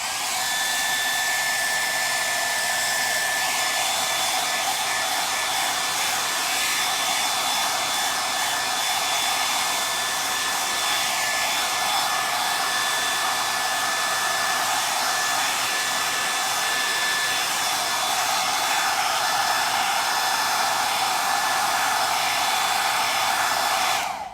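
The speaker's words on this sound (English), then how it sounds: "I'm going to hit this with a hairdryer again" A hair dryer blows steadily and loudly on a painted furniture finish for the whole stretch, a constant high-pitched rushing whir with no pauses.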